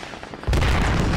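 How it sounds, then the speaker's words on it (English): Rockets land close by in the military shooter Squad, a sudden loud, deep blast cutting in after a quiet moment and rumbling on through the rest of the clip. "Rockets. That landed really close to Hedda."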